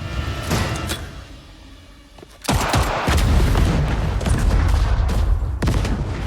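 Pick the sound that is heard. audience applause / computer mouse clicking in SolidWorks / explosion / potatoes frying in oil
explosion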